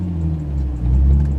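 Infiniti G35 with a manual gearbox revving, a steady low engine drone that swells and climbs in the second half, close and loud with no talk over it.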